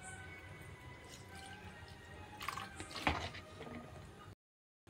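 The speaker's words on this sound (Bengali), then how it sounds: "25 ml অ্যাসিটিক অ্যাসিড দেব।" About 25 ml of acetic acid being poured into 500 ml of warm water to make homemade vinegar, heard as a faint trickle and a few soft drips that swell briefly before cutting to silence.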